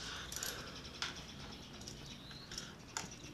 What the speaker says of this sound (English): Let's get these calipers off.